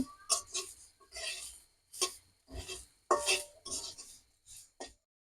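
Grated coconut dry-frying in a pan for a lachha semai dessert, stirred with a utensil that makes short, quiet scraping and clinking bursts in an irregular rhythm.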